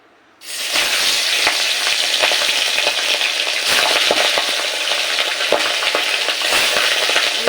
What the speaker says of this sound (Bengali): মাছটা আমি খুব বেশি নয় হালকা এপিট উপিট করে একটু ভেজে নেব